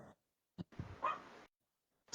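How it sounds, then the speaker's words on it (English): A dog gives a couple of short, muffled barks a little way off, quiet and separated by silence. "Excuse my dog barking"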